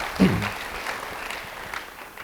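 Applause from a church congregation that swells and then carries on steadily, with a brief voice at the start.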